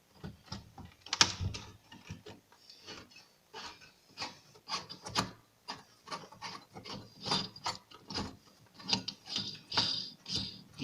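A part inside a doorknob lock is unscrewed by hand, giving a close, dry ratcheting click and grinding in many short irregular bursts of scraping and ticking, with no talk.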